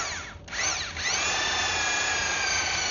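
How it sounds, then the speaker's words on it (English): A power drill fitted with a mixer head churns a dry mix with relatively dry sand, a loud, steady whine that dips briefly near the start and then runs on continuously, close by with no talking. "the mixer head I'm using today is for a drier mix"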